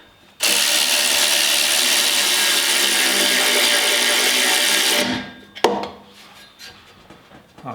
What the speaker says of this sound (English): we're just torquing down these bolts